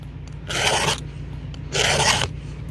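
A chainsaw chain is hand-filed outdoors in the bush, the saw braced on a stump with no vise; two slow, steady rasping file strokes stand out clearly above a low background hum, with no talking.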